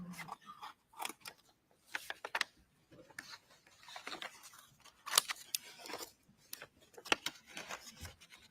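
Scissors cutting open an evidence package in a courtroom, a string of crisp snips and crinkling plastic, close and fairly quiet, with irregular pauses between cuts.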